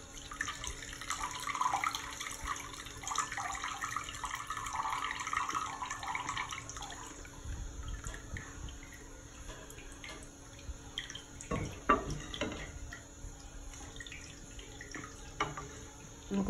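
Excess water drains from about 700–800 grams of couscous for a Moroccan recipe, a trickling, splashing pour that thins out midway. Scattered soft drips and clinks follow, fairly quiet and close.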